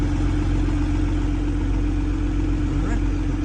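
A 1995 Acura NSX engine idles with a smooth, steady low hum that holds an even level throughout.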